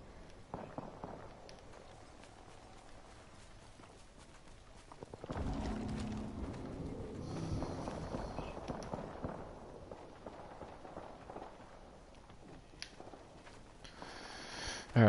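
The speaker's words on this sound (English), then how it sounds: "I hear shots to the right." Gunfire in a PS4 video game: scattered sharp cracks and bursts through an ongoing din of game ambience, louder and denser for a stretch partway through, then settling back to a low rumble.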